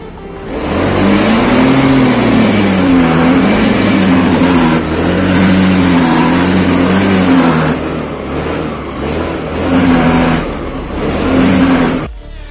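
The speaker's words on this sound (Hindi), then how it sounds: "अभी हम लोग स्टार्ट करते हैं गाड़ी को।" A scooter engine starts and is revved hard, a loud continuous drone rising and falling in pitch through several throttle blips, close by with no talk over it.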